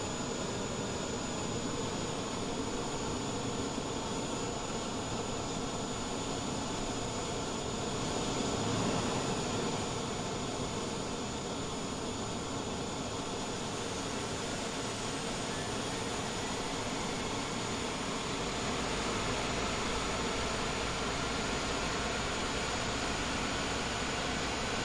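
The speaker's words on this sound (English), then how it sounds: "Better start the engine. Start engines." Airliner jet engines starting in a flight simulator whine and roar steadily for a long stretch, a constant broadband rush with a rising high-pitched tone toward the end.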